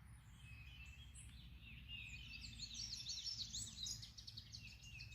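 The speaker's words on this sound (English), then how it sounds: "You hear the birds?" Outdoor birdsong: several small birds chirp and trill in a steady chorus, bright and fairly close, over a low background rumble, with no talking.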